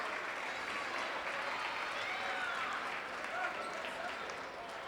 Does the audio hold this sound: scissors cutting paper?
no